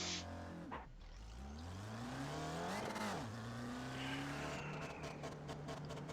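Race cars roar off the grid at the start of a video game race at Brands Hatch, engines revving and climbing through gears in a loud, continuous rush with overlapping passes.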